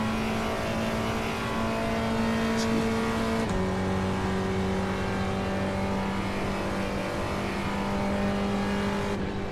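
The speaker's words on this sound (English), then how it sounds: "Take off well, but in a manual car from a standing start," Manual race car in the iRacing sim pulling away from a standing start, a sustained engine drone that drops pitch at a gear change and then holds steady.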